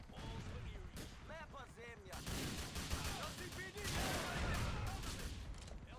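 RPG fire and explosions in GTA Online: rumbling blasts and bursts of gunfire build into a dense, continuous roar, while a person talks under the noise in the first seconds.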